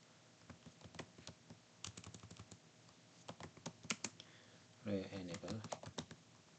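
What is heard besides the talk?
typing a sudo command on a computer keyboard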